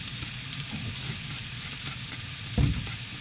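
Garlic and bacon fry with onion in a hot wok, a continuous sizzling hiss with a sharp burst of louder crackle near the end as more goes in, heard close with no voices.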